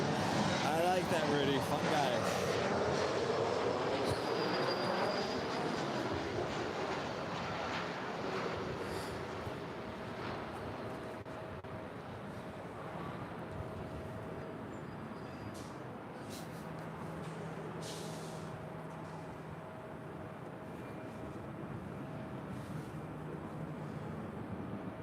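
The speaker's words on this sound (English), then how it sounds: "That was Delta Connection Flight 3537 coming in from San Francisco." A Delta Connection flight arriving at LAX from San Francisco, a loud jet roar that sweeps past in the opening seconds and fades into a lingering distant rumble and wind, with people talking on and off.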